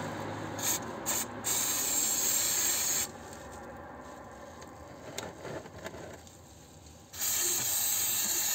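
Aerosol spray hisses in bursts while cleaning during an oil change on a Hyundai Accent Era 1.4, with a couple of short sprays, a quieter gap, then a long steady spray.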